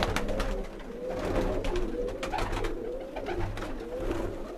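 Rooftop young pigeons keep up a repeated throaty cooing in several overlapping phrases, near and moderately loud, without any people talking.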